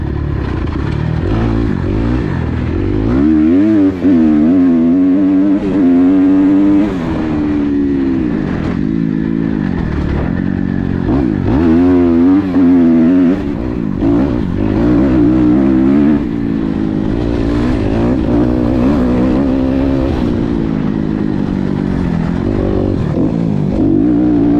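A dirt bike rides laps on a motocross practice area with spread-out jumps, its engine loud and close throughout, with rising and falling revs as the rider accelerates and shifts.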